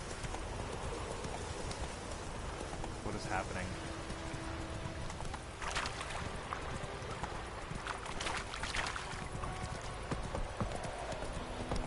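Horse hooves clip-clop in a steady rhythm while riding across open country in The Witcher III: Wild Hunt, with a faint rain-like hiss beneath and someone talking over the hoofbeats.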